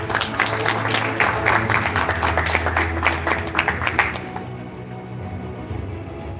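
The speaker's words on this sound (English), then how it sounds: "Round of applause, please." Applause for a speaker at a live stage event, a lively round of clapping over a low hum that thins out and stops about two-thirds through, leaving quiet room tone.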